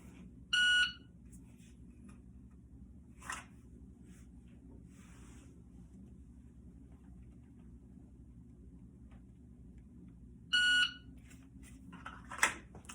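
Shot timer for dry fire practice gives a sharp electronic beep near the start, and a second beep comes about ten seconds later, with faint clicks and handling noises against a quiet room hum.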